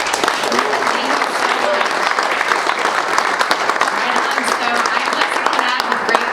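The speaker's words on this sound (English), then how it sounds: "Let's give everybody a round of applause." An audience at a ribbon cutting for a food plant in Pratt, Kansas, applauds with loud, dense clapping that holds steady for several seconds with no break.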